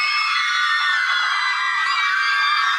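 A high, shrill scream from a 1958 horror film about a haunting skull, loud and sustained for nearly three seconds without a break, with no speech.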